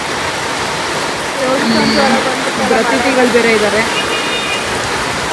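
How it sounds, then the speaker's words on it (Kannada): Heavy rain pours around a parked vehicle, a loud steady wash of drops drumming on surfaces throughout, with people talking over it. "ಜೋರಾಯ್ತು ಮಳೆ, ಎಷ್ಟು ಜೋರಾಗಿ ಬರ್ತಿದೆ ಅಂತ"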